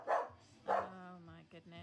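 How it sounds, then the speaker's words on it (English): Two quick dog barks about half a second apart, fairly faint, followed by a person talking. "What are you barking at?"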